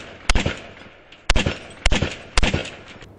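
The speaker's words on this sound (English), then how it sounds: "Shot fired! Shot fired! He just shot him!" Four sharp, loud gunshots ring out in an uneven sequence during a police shooting in Oklahoma City, aimed at a police vehicle, each crack followed by a brief echo.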